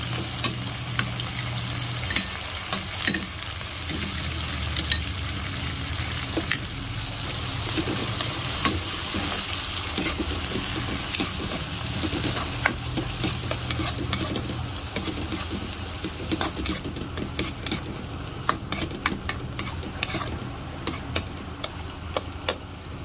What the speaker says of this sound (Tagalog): Lagay natin yung ating shrimp. Maliliit na shrimp.